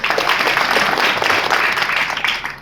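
Audience at a marketing company program breaks into loud, sustained applause, a dense wash of many hands clapping together that fades slightly at the end.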